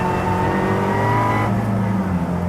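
Peugeot 308 Racing Cup race car with a small turbo engine revving hard on track, a loud close steady drone with a pitch shift midway as it changes gear, alone without talk.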